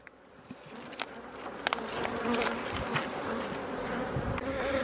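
Honey bees buzzing around beehives at an apiary outdoors, a continuous droning hum of many insects with individual bees passing close, plus a few faint clicks and bumps.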